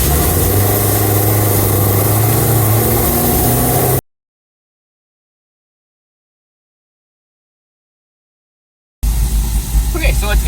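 Loud, steady engine drone of a 2018 Camaro ZL1 1LE running on dyno rollers in a tuning shop, dense and continuous, cutting out for a few seconds of silence before resuming.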